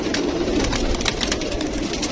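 A large flock of highflyer pigeons coos together in Lahore, a dense, continuous, overlapping murmur of soft calls close by.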